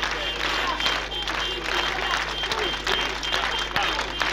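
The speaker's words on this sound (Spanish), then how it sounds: "Y entonces empezaron a aplaudir" A crowd gathered outside a police station applauds steadily, with dense clapping sustained throughout and voices mixed into the noise.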